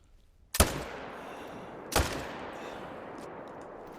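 Two loud gunshots from a tiger hunt in a video game, one sharp report near the start and a second about a second and a half later, each with a long echoing decay.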